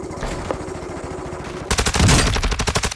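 Gunfire in the shooter Call of Duty: Modern Warfare II, a rumbling stretch of action that erupts into a loud, close burst of rapid automatic shots for the last second or so.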